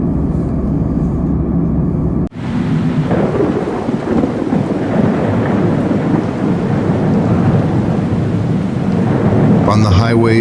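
Heavy rain pours steadily in a thunderstorm over highways and city streets, with loud rumbling thunder throughout and a sharp break where a lightning strike cuts in, then the roar builds again, close and dense.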